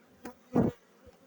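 Honeybees at an opened package hive being smoked on a cloudy day, giving a couple of brief close buzzing bursts, one louder, as individual bees fly past.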